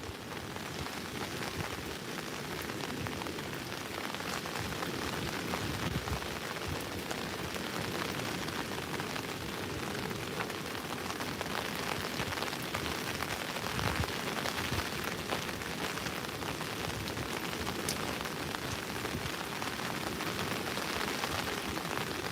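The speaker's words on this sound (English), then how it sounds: "It's the first time it's rained today." Steady rain falls continuously at a seaside fishing spot on Hayling Island, a dense, even hiss of drops on surfaces with no talking.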